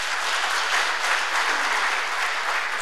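Audience applause at a live comedy show in a private resort, a dense, steady burst of clapping from a crowd lasting the whole stretch, loud and continuous with no talk over it.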